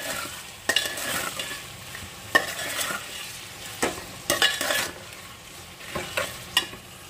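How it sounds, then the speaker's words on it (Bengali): Mutton sizzles in a handi pot as ginger-garlic paste is stirred in, a steady close frying hiss broken by about six sharp spoon scrapes at uneven intervals, with no talking. "দিয়ে দিচ্ছি আদা রসুনের পেস্ট। আচ্ছা, ভালো করে মিশিয়ে নেব।"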